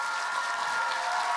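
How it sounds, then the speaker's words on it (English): Dense, steady applause from a convention audience closing a Q&A session with Peter Davison at Hal-Con 2013, an even roar of clapping hands held at constant loudness throughout with no speech over it. "Keep the applause going"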